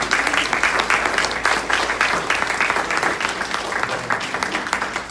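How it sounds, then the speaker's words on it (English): A room full of people at a club general meeting applauding candidates, steady and sustained, with dense clapping the whole way through. "let's give all the candidates a big round of applause."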